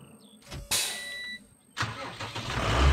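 A tractor in Farming Simulator 19 starts with a sharp click and then an engine cranking up, followed by a second start that rises into a steady idling rumble, close and fairly loud, with no talking.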